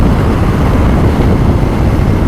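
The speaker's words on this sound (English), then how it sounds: "it's really windy" Steady, loud wind beside an interstate roars across the microphone, a continuous broadband rush with no letup and no voices.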